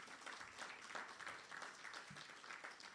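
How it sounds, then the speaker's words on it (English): Audience applause at a labour ministry summit on the future of work and productivity, a steady mid-level wash of clapping lasting the full three seconds with no talk over it. "Can you give them a round of applause, please?"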